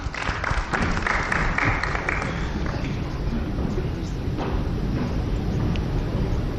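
Audience applause for African Union chairperson candidates at a formal event, a steady, dense wash of clapping from a large crowd, loud and sustained throughout.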